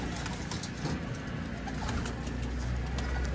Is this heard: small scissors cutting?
no